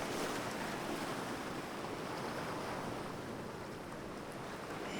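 Ocean surf rolls and breaks continuously, a dense close wash of water with light wind, and nobody speaking.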